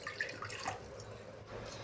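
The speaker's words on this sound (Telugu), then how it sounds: "ఒక గ్లాస్ నీళ్ళు వేసుకొని" A glass of water poured into a small kadai on a lit stove to boil banana flower, a faint trickling and dripping splash that is quiet and steady with no talking.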